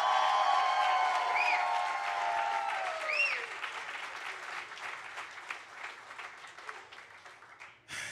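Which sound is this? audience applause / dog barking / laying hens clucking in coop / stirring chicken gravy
audience applause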